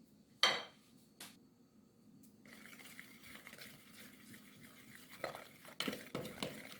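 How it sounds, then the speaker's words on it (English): Dry banana bread ingredients with salt and cinnamon being stirred together in a bowl, a sharp clink at the start followed by soft scraping and light clattering strokes, fairly quiet and without talk. "I'm going to just give that a good mix just to combine everything"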